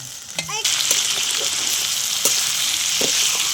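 Onion, chilli, ginger, garlic and tomato frying in hot oil for a hilsa curry, with a loud steady sizzle that jumps up as ingredients hit the pan, plus faint stirring clinks, close by.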